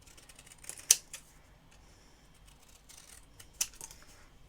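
Two sharp scissor snips cutting card stock for a Christmas card, about three seconds apart, close and crisp in an otherwise quiet room.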